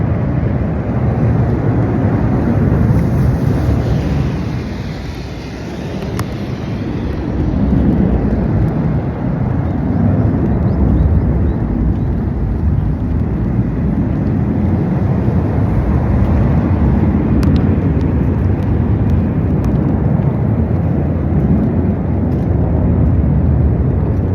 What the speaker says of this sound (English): the locals might be used to the noise of fighter jet routines